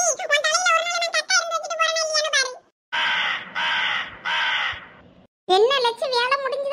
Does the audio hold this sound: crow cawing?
yes